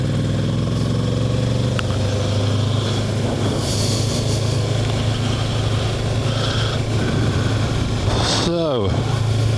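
A Kawasaki Versys 650 motorcycle loaded with full panniers and a top box drones steadily while being ridden, engine hum and wind noise constant under a rider's voice, with a brief pitch sweep near the end.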